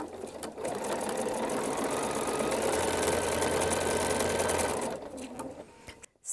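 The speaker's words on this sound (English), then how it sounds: "lift up that elastic, and start stitching" A sewing machine stitching elastic onto a fabric reusable bowl cover runs in a steady, fast mechanical whir close by for several seconds before stopping.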